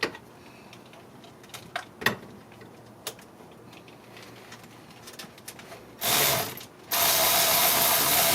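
A hand ratchet works loose a tight spark plug on a 2011 Honda Odyssey, giving a few scattered faint clicks and rubs, then two loud, sustained bursts of rasping ratchet noise near the end.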